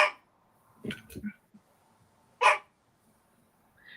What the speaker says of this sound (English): And Grizzly was agreeing with me, if you could hear him barking.